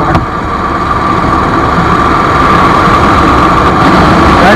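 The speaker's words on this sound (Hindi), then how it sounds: "बहुत टाइम बाद लंबे रूट पर बाइक को थोड़ा खींच रहा हूँ" A motorcycle pulls hard along an open highway toward Garhmukteshwar, its loud engine droning steadily with a constant humming tone and heavy wind rush, running continuously without a break.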